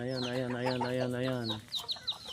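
Chickens clucking while eating on a farm with mango trees and coops, a close, loud hen vocalizing for over a second followed by short scattered clucks.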